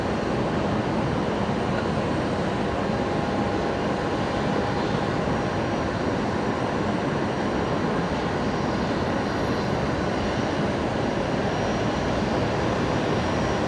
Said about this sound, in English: I've got Qantas 1914 literally just about to touch down